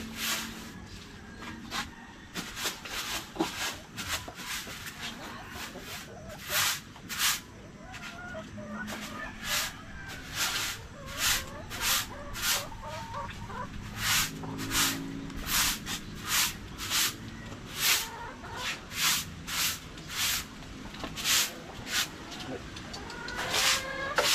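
Chickens cluck repeatedly in short bursts, joined by other fowl, over steady outdoor background noise and occasional rustling.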